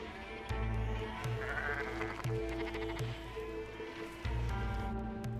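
Sheep on a farm in the middle of the desert bleat loudly and close by, with repeated overlapping calls over steady background noise.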